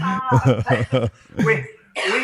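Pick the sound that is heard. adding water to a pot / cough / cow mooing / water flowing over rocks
cough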